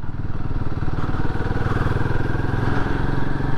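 A motorcycle engine drones steadily and loudly throughout, a close, continuous rumbling putter as the bike rides along.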